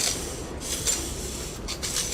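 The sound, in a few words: cleaning alternator slip rings with very fine sandpaper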